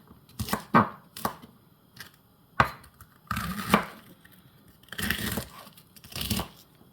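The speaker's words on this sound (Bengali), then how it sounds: "যেহেতু এগুলা শক্ত আছে, একটু হার্ড আছে, এই কারণে এইভাবে আমি ছোটো করে কাটিয়ে নিয়ার" A knife chops tough, hard bok choy stalks into small pieces on a board. It makes a series of crisp, crunchy cuts in uneven bursts, some single and some in quick clusters, close and fairly loud with no talk over them.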